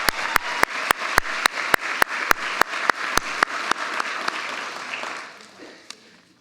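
An audience at a graduation ceremony breaks into applause, with loud sharp claps ringing out in a rough rhythm before the clapping thins and fades away.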